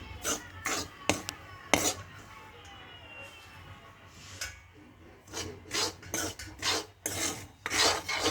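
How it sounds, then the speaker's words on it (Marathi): Prasad being roasted in a kadhai (wok) for Nag Panchami, with a utensil scraping across the pan in repeated rasping strokes that come in uneven bursts, close and fairly loud. "प्रसाद भाजत आहे मी"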